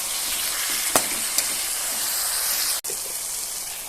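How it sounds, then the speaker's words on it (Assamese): Masoor lentils fry in a pan of fish curry, giving a steady loud sizzle with a few brief stirring scrapes and a short break near the end, with no voices. "এতিয়া পুনৰবাৰ মই ভালকৈ লৰাই দিম"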